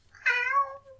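A small sludge-covered kitten meows once in the 1971 film Godzilla vs. Hedorah, a single clear, drawn-out cry that rises and then trails off, close and alone.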